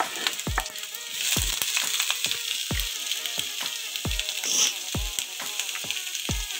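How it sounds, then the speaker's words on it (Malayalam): Chopped onion and green chilli sautéing with salt in a pan, a continuous close sizzle punctuated by regular thuds of a spoon stirring roughly every half second. "നമ്മൾ അരിഞ്ഞ് വെച്ച സവാളയും പച്ചമുളകും കൂടി ചേർത്ത് അല്പം ഉപ്പും ചേർത്ത് നമുക്ക് ഒന്ന് വഴറ്റിയെടുക്കാം"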